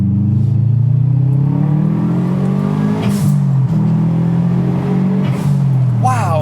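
A Subaru WRX STi with an EJ207 engine and 370 brake horsepower revs loud and close, its engine note rising steadily with brief dips at gear changes, while people talk over it inside the car.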